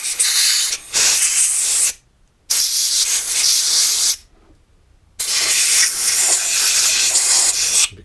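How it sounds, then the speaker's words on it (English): Compressed air blasting through a stripped motorcycle carburettor from a 1998 Honda CBR900RR Fireblade, loud close hissing bursts in three long blows separated by brief silent gaps. "then you need some compressed air to blow everything through"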